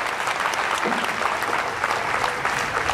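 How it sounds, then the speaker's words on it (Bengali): An audience at a clean-up volunteer event claps loudly for the volunteers, a steady, dense roar of applause that fills the whole stretch, close and even, with a faint voice mixed in. "তাদের সাথে একটা জোরে করতালি আমরা দিতে পারি"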